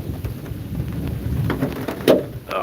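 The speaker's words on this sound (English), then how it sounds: "It's pouring out here." Heavy rain pours down outdoors in a steady, close, hissing wash, with a few sharper splashes and knocks near the end and no voices.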